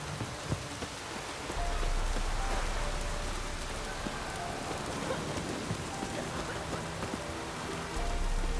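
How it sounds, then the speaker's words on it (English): Heavy rain pours down in The Witcher 3: Wild Hunt, a steady, dense hiss of drops on surfaces filling the scene, with a low rumble swelling in after a moment and holding to the end. "Proper downpour this is."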